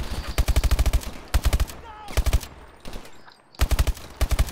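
Rapid bursts of automatic gunfire from the video game Call of Duty Advanced Warfare, loud and close, repeating in several clustered volleys separated by short lulls.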